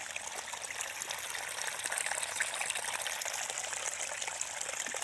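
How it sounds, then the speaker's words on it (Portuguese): Water flows out of the basement of an old wooden house in dense woods, a steady close rushing gush of bright splashing with no break. "a água que vem do porão"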